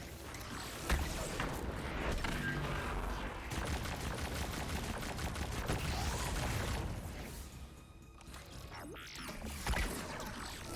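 Weapon fire in Destiny 2 during a Legend Lost Sector fight against acolytes: rapid mechanical shots and clattering bursts blend with a dense game soundscape, steady and fairly loud throughout, with no voices.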